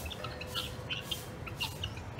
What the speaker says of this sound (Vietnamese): Chim bồ câu kìa.